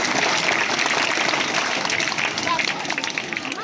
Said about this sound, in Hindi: तो आप अपने लिए एक बार जोरदार तालियां बजाएं